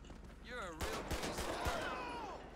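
A handful of sharp, separate gunshots, likely from a video game, cracking out at a moderate level over a quiet, low background with a brief whistling tone before them.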